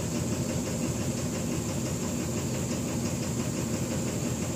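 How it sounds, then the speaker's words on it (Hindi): A Mahindra Blazo BS6 truck diesel engine idles steadily with a low, rough rumble and a faint, regular knocking running through it. "इंजन का आवाज़ हल्का सा वो नॉकिंग कर रहा है ये"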